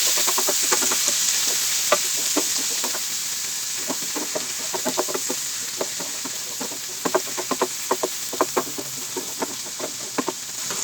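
Ingredients frying in seasoned oil in a pot for a vegan Jamaican oxtail stew, a continuous hiss of sizzling broken by frequent sharp crackles and pops, close and steady throughout.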